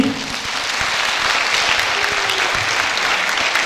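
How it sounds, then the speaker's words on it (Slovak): Audience in Galanta clapping together at a dance screening event, a dense, steady burst of applause that is close and fairly loud, with no voices over it. "zatleskajte si aj vy"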